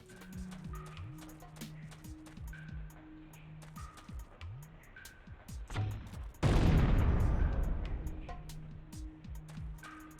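A grenade launcher fires in the Syphon Filter video game, a single loud booming blast and rumbling explosion erupting partway through after a stretch of quieter game ambience with scattered clicks and tones.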